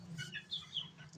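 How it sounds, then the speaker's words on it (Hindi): A broody hen sitting on a clutch of about eleven eggs gives soft, low clucks and murmurs, close and fairly quiet, in short repeated bursts with no talking. "ये एक मुर्गी बिठाई हुई है कुड़क, तकरीबन 11 अंडे इसके नीचे रखे हैं"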